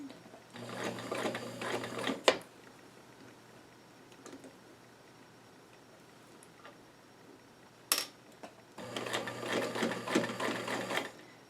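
A sewing machine stitches lightweight denim for doll jeans in two short bursts of rapid close clatter, separated by a quiet pause with soft handling clicks.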